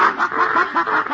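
A voice on an old-time radio show imitates a clucking chicken with a run of quick, nasal, rhythmic calls, close and loud, about five pulses in a second.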